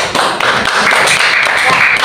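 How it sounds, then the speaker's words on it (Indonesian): Classroom of students clapping at the end of a lesson, a short burst of brisk, close hand claps and taps, loud and uneven. "Sekarang tepuk tangan untuk kita semua."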